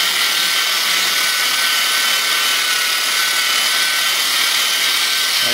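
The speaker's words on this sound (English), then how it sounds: "My drill is turning. And I'm just gonna scrub it." A power drill with a scrub brush attachment whirs steadily and loudly throughout while scrubbing a carpet, with a broad scrubbing hiss layered over the motor drone. No voices are heard.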